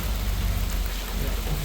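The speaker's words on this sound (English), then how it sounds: "it started raining on us" Steady rain falls outdoors at night in foggy conditions, a dense, continuous hiss of drops with a low rumble underneath, close and even throughout.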